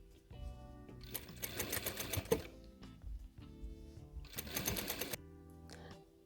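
A domestic sewing machine stitches shoulder seams on a child's overalls in two short, close bursts of fast needle clatter, with a quiet pause between them and a soft hum at either end.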